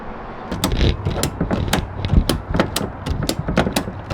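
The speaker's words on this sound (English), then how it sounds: "I'm going to go ahead, finish strapping this in, cinch it down nice and tight" A ratchet strap is cinched tight to secure dog kennels joined by a coupler kit. It gives a quick run of sharp, rhythmic ratcheting clicks close by, with no talking.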